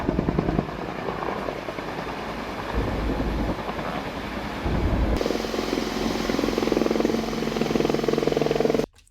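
Firefighting helicopters fly over a large wildfire in Norway. Their rotors make a loud, continuous throbbing drone that grows stronger midway and then cuts off abruptly at the end.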